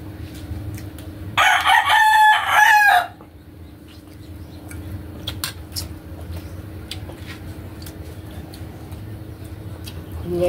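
A rooster among free-range native chickens gives a single loud, near crow lasting over a second, then the yard settles into a low steady background hum with faint scattered ticks.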